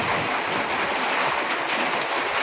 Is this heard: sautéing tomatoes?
no